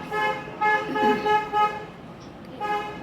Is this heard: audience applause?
no